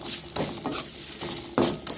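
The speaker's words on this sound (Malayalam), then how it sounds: "പപ്പടം നമ്മൾ ഇതിലേക്ക് ഇട്ട് കൊടുക്കുക. എന്നിട്ടൊന്ന് മിക്സ് ചെയ്തെടുക്കുക." Quiet scraping and clacking of a spoon stirring fried papadam into a tomato chilli curry in a pan, a few short rhythmic strokes with soft gritty rasps between them.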